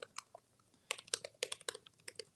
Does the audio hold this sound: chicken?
no